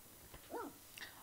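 A short, quiet dog whimper from The Sims 2 video game: one rising and falling whine in the middle, then a fainter yip near the end, with no talking.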